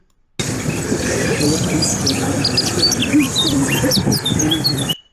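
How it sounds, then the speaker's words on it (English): Birds chirp and tweet in quick scattered calls over a steady outdoor hum with insect-like buzzing, continuing throughout. "you can still hear the birds twinkling and people speaking, but the ambulance sound is gone"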